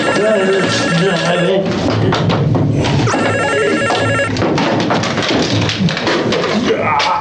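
A telephone rings repeatedly in a busy police station scene from a Turkish comedy sketch, the bell tones standing out over continuous background chatter and thumps.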